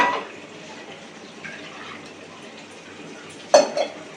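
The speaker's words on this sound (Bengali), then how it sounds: "এই বাটিটা ধুয়ে জল দেবো" A bowl that held cashew-poppy seed paste is rinsed with water in a home kitchen, with a faint wet swish and then a sharp, close clink of the bowl near the end.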